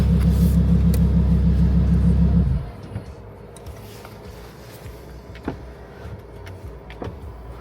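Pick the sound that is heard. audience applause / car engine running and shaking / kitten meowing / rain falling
car engine running and shaking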